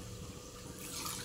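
Water poured onto the lid of a pan covering cauliflower as it steams, a soft steady trickle and splash that grows slightly louder toward the end, close and alone.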